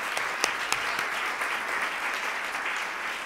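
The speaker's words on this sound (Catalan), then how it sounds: "jo demanaria un aplaudiment per aquesta gent" An audience at a talk on open data and gender inequality applauds, sustained even clapping from a sizable crowd with a few sharper individual claps near the start, no speech over it.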